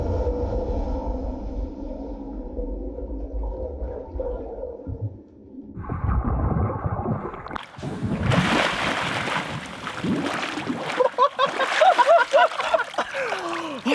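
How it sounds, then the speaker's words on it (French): A fire extinguisher pressurised to 16 bar is discharged under water, giving a sudden rush of churning, bubbling and splashing that builds into a loud, turbulent roar, after a calmer hum at the start. "À l'extincteur avec 16 barres de pression sous l'eau,"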